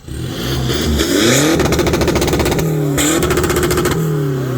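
A pink pickup truck's engine revs hard after a new tune, climbing in sharp repeated blips with a rapid crackling pulse, loud and close with no talk over it.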